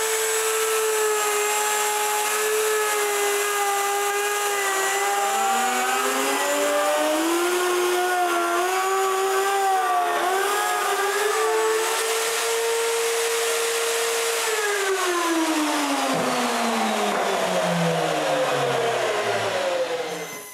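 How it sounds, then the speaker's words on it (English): A slot mortiser cuts mortises in wood with a loud, steady motor whine that dips and wavers under load, then winds down in pitch toward the end. "the first thing to do is to adjust the slot mortiser and cut the mortises"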